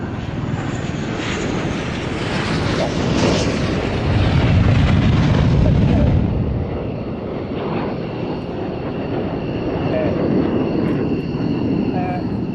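A loud, steady jet engine roar dominating the scene at the Royal International Air Tattoo, swelling and fading slightly like an aircraft powering along during takeoff, with a broad rumbling wash.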